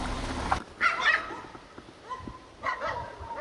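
Dogs in a Bulgarian village barking in short, scattered bursts, a few yips spread over a few seconds at moderate distance after an initial rumble.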